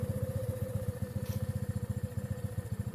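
A 2022 Honda Navi motorcycle idles close by, its small engine putting out a steady, rapid, lumpy putter with an even rhythmic pulse and no talk over it.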